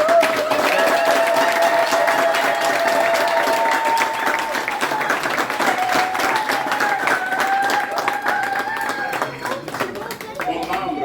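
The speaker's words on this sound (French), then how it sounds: "Je voudrais prier toute la grande communauté camerounaise de France qui est là, d'acclamer son chef." A large crowd of the Cameroonian community in France applauds their ambassador at a reception, sustained dense clapping that fills the room throughout, with a voice carrying over the applause.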